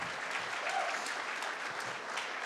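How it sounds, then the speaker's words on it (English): An audience at the 21st ACTRA Awards ceremony in Toronto gives sustained, even applause, a dense wash of clapping that holds steady throughout the brief moment. "So you should all take a round of applause for yourselves"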